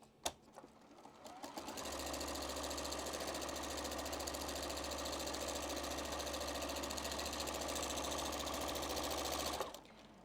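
A sewing machine runs steadily for about eight seconds, stitching straight lines across quilt fabric in a nine-patch block, with a close, even mechanical whir and rapid needle rhythm before stopping abruptly.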